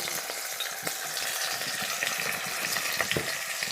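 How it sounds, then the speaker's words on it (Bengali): Small fish fry in hot oil in a wok, giving a loud, continuous close-up sizzle with scattered pops and crackles throughout. "তেলটা আমার গরম হয়ে গেছে। এখন আমি মাছগুলো দিয়ে দিব"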